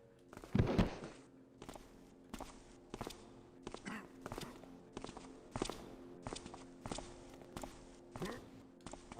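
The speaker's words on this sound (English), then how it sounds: "hear footsteps very close" Footsteps in the stealth game Thief 2: The Metal Age tread close by in a steady, evenly spaced rhythm of soft thuds, with one heavier knock near the start and a quiet background beneath.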